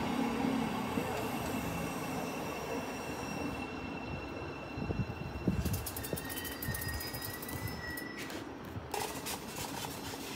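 A passenger train departing St Neots station rumbles steadily as it pulls away, wheels squealing on the rails with high metallic whines and clatter, no talking.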